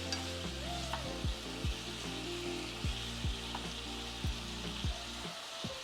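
Eggplant pieces cooking down in corn syrup in a pan, with a steady close sizzle and bubbling; about eight sharp scraping strokes of a spatula stirring through it at regular intervals before it quiets at the end.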